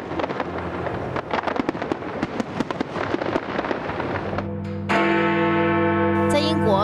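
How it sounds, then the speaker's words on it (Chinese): New Year's fireworks at the Brandenburg Gate in Berlin: a dense run of loud, sharp bursts and crackles, then a sustained ringing tone takes over near the end. "德国的烟火则是在柏林布兰登堡门的附近"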